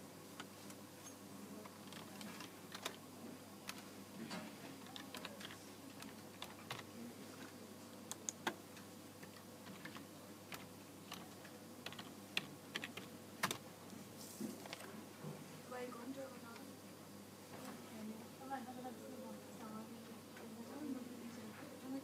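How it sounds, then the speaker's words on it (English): Quiet clicking of keys on a library public computer keyboard, scattered taps and short runs of typing over a low room hum, with soft speech in the background. "Press Ctrl-Alt-Delete, enter your user ID and password and press Enter."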